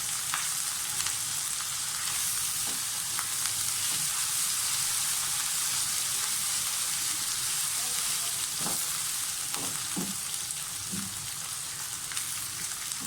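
Whole cumin and finely chopped green chillies fry in oil for an aloo shimla mirch dish. A steady, dense sizzle runs throughout, with a few soft stirring clicks and no talking.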